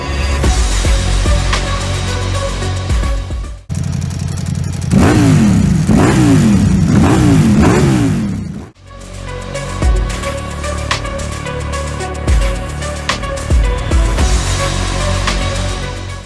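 A Ducati Diavel V4 RS motorcycle with a 1,103 cc V4 engine roars loudly up close, revving hard with rising and falling pulses and a brief cut in power midway, without any talk.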